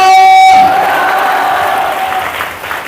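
A church congregation bursts into loud clapping right after a held sung or spoken tone, a broad wash of applause that slowly thins toward the end.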